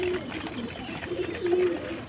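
Pet pigeons coo softly at feeding time, a short low coo followed by a few wavering, broken notes over quiet background rustle.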